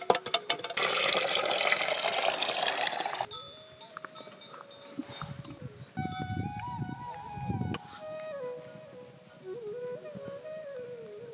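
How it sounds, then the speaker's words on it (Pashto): Water is poured out in a loud splashing burst of a few seconds at a nomad camp in the cold Hazarajat mountains, before quieter clinks, bells and livestock sounds take over. "اوس د خیره د سهار لمانځه لپاره اوبه جوش کوو"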